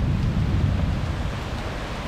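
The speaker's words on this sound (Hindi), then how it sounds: "लो जी बारिश फिर शुरू हो गई है, यहाँ से भागना पड़ेगा।" Rain pours during a city walk in Nancy, France, a loud, steady hiss of falling water with low rumbling and wind buffeting the microphone, close and continuous.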